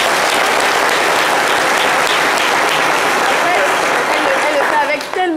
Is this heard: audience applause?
yes